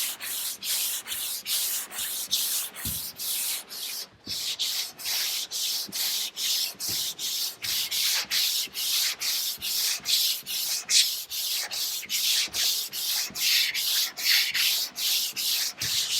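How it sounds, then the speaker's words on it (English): Long sanding block rubbing over thick polyester primer on a 1968 Charger body, with steady back-and-forth scraping strokes repeating in an even rhythm, close and fairly loud without talk. "So we use these longer blocks to kind of block through that."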